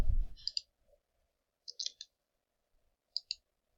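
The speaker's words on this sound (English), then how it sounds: "We'll right click on it" Crisp computer mouse clicks come in a few quick pairs separated by pauses, close and fairly faint in a quiet room.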